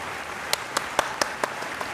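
A single person claps six times at an even pace, sharp and fairly close, with soft background noise and no voices between the claps.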